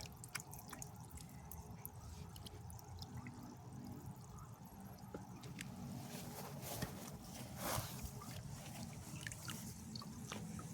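Water sprays from a garden hose onto a water lily in a tilted pond to wash off aphids, a steady hissing, splashing flow with scattered drips, fairly faint and continuous.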